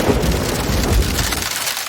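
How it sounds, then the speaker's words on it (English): Rain and thunder sound effect in a preschool learning program: a dense, loud wash of falling rain with a low rumbling roll of thunder, heard alone with no voices. "Rain."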